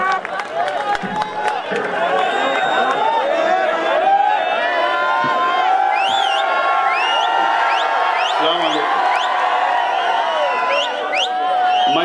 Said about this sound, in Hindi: जोरदार तालियों से पूरा पिंडाल इस्तकबाल करे